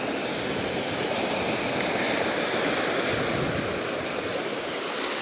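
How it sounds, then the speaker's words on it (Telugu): Steady, dense wash of ocean surf rolling onto a Lakshadweep beach, continuous and fairly loud with wind-like hiss and no voices. "చూసారా ఎంత అందమైన బీచ్."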